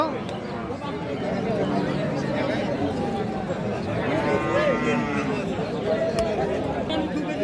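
Cattle, including cows and heifer calves, low and moo amid a busy crowd at Ambari livestock market, with many people talking over one another throughout.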